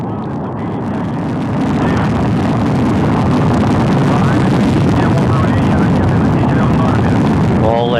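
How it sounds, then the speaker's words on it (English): A Soyuz rocket lifts off on the Progress MS-24 resupply launch to the International Space Station from the Central Asian desert, producing a loud, continuous roar that swells within the first two seconds and then holds steady. "Liftoff of the 85th Progress resupply mission to the International Space Station."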